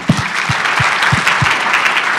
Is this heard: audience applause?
yes